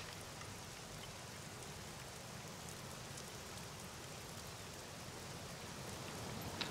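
Steady rain pours down throughout in the survival game SCUM, a dense even hiss of drops with no talking over it.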